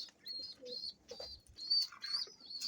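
Pigeons make soft chirps and coos around a loft, with wing flutters and light rustling. The sounds come in short, irregular bursts at close range, with no voices.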